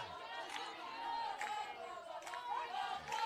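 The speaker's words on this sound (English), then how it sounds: "The crowd is becoming a bit restless, Sam." Restless crowd murmur and chatter in the stands at a college softball game, a steady hum with a few raised shouts rising over it.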